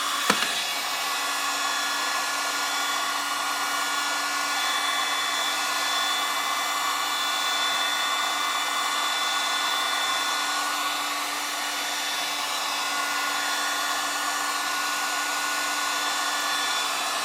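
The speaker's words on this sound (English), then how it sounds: "this is really hot heater what generates like 500 Celsius heat. And now I dry this area." A heat gun producing about 500 Celsius blows continuously with a steady whooshing roar while drying the brake pedal area of a 2000–2009 Toyota Prius, close and constant with no talk.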